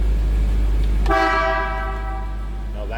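A 1953 Packard Caribbean convertible sounds its horn once, a loud, close, sustained honk that lasts about a second and a half over a low running engine.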